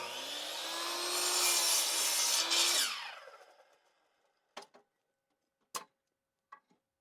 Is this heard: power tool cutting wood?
yes